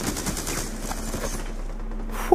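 Rapid automatic gunfire in Black Ops 2 multiplayer, a dense burst of repeated shots running continuously and loud, ending in a sharp crack.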